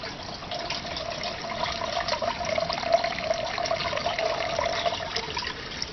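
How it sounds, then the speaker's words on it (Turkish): Water runs steadily through the pipes of a soilless hydroponic growing system, pumped from a nutrient tank, giving a continuous moderate trickling flow with no talking. "Suyumuz borular içerisine akıyor."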